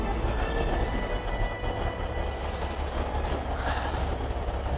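Alishan mountain railway train running on its rails in Taiwan, a steady close rumble with faint rhythmic clatter and a high squeal rising toward the end, no voices.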